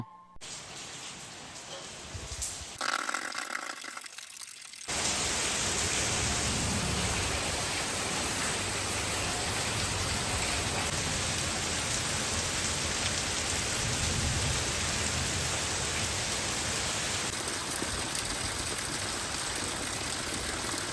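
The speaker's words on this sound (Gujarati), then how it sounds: "ભાઈ એવો ધોધમાર વરસાદ આવ્યો" Heavy downpour in rural Gujarat, a dense continuous roar of rain beating on surfaces that starts abruptly after a few seconds and stays loud and steady throughout.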